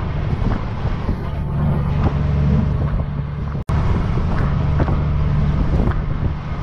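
Steady engine drone and wind rush from a motor trike on the move, with a rider and passenger aboard, loud and continuous with a brief dropout midway.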